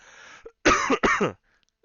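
Two harsh coughs burst out close up, one right after the other, loud and throaty with a short gap between them.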